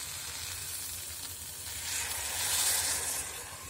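Boiled water is poured into a hot frying pan of brinjal curry, setting off a steady, close sizzle and hiss that swells louder toward the end, with no voices.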